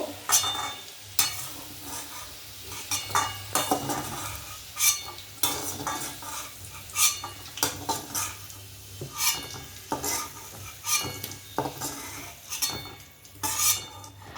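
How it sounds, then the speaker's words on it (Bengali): A metal spoon scrapes and clinks against a pan as fried potatoes come out of hot oil for a Bengali cabbage curry. Low oil sizzle sits beneath a run of irregular knocks and stirring sounds. "আলুগুলো তুলে নিলাম"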